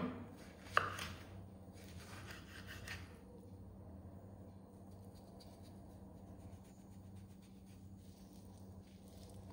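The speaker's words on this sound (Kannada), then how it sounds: "ಕಟ್ ಮಾಡಿ ಇದರ ಸಿಪ್ಪೆ ಎಲ್ಲ ತೆಗೆದು ಸಣ್ಣ ಸಣ್ಣದಾಗಿ ಪೀಸ್ ಮಾಡಿಡ್ತೇನೆ" A knife chops peeled fruit into small pieces on a board. One sharp chop stands out, followed by brief rubbing and scraping, then the room falls quiet and faint.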